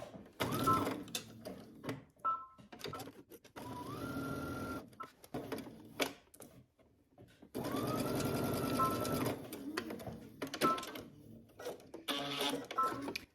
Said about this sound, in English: go to your sewing machine and starting at the hem, work your way up, stitching using 5/8 of an inch seam allowance